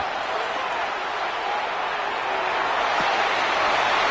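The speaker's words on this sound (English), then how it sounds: "this crowd making it hard to hear" A loud football stadium crowd roars continuously during a third-and-8 pass play, a dense wall of noise that barely changes and sits under faint commentary.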